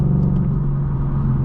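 A 2024 Ford Mustang GT Premium cruises along, its engine a low steady rumble with road noise, close and constant over a brief stretch.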